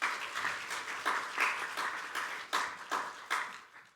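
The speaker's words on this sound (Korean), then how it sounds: "여러분 먼저 환영의 박수 한번 하겠습니다." A chapel service audience at a university gives a round of welcoming applause for a visiting pastor, with clapping falling into an even, pulsing rhythm that fades out at the end.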